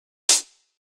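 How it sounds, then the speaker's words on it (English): A single closed hi-hat hit from a dance-music sample pack rings out alone, a crisp bright tick with a fast decay. "it's just a hat sample from my sample pack"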